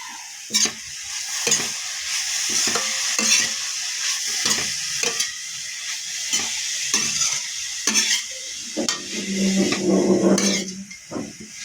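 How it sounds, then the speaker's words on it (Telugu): Carrot and beetroot sizzle steadily in a frying pan while a spoon stirs and scrapes in repeated strokes, with occasional light clinks of utensil on metal; close and clear, no talking. "మధ్య మధ్యలో తిప్పుకుంటూ ఉన్నాను"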